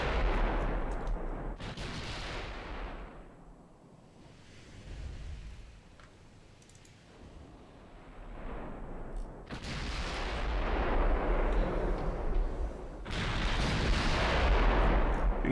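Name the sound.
naval artillery fire from Japanese ships, Ultimate Admiral Dreadnought video game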